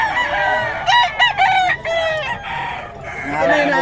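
Roosters and hens at a poultry market in Bocaue, with a rooster crowing in several loud, close harmonic bursts over continuous clucking and a busy background.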